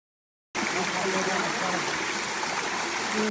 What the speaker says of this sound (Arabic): وصلنا لأول شلال، وكان الهواء والمي يجنن